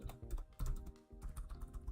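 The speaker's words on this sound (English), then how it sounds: "Damn typing." Typing on a computer keyboard during a C++ game-engine programming livestream, a rapid, uneven clatter of key presses with brief pauses, quiet and close, with no speech.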